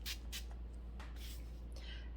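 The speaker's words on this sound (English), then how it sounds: "It's the Wet n Wild Photo Focus Rose Spray. You can use it as a primer and a setting spray and whatever." Several short hissing bursts of Wet n Wild Photo Focus Rose setting spray, a few quick pumps in a row, close and fairly soft against a quiet room.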